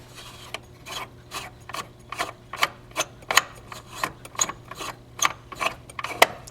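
A green knob on a Korinto brew chamber is turned counterclockwise, producing a series of close, irregular ratcheting clicks and gritty scraping rasps.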